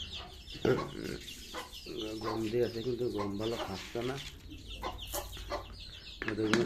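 Chickens cluck around a coop holding desi and Tiger breed chicks plus adult hens and a rooster, soft clucks and peeps scattered through the clip beneath someone talking.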